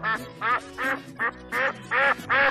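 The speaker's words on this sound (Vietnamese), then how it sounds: "Duck." A duck quacks seven times in quick, evenly spaced bursts, loud and close with no other sound between the calls.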